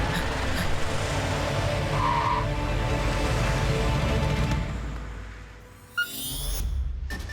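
Cartoon vehicle revving and speeding off as its tires squeal, with engine noise throughout, a brief sharp screech near the end and a final skid, no talking.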